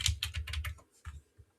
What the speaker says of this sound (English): I use the arrow keys as well.